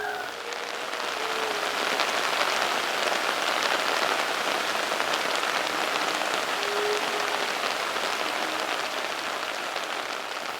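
Steady rain falls on surfaces, a dense, even hiss of drops that holds at the same level for about ten seconds, fairly close with no voices.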